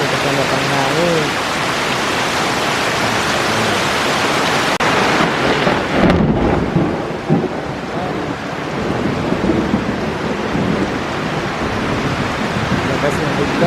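A heavy thunderstorm pours down on a garden, with dense, steady rain roaring close by and a low rumble of thunder building around the middle. Voices are faintly audible beneath the downpour.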